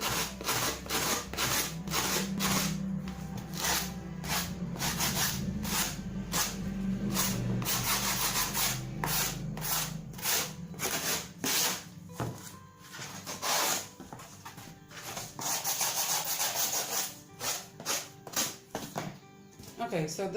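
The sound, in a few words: sanding cardboard to shape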